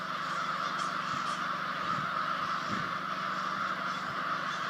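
Many crows in Maine trees keep up a loud, unbroken chorus of overlapping caws, with a few sharper individual calls standing out from the dense flock noise.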